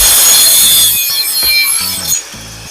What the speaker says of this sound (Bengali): তাই জন্য আমি কাঠ কাটছি এখন